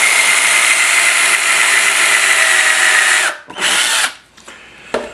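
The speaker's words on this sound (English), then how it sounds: "It's just as simple as drilling the hole." Power drill bores a hole for mounting magnets, a loud, close, continuous whine for about three seconds before stopping, followed by a couple of brief bursts.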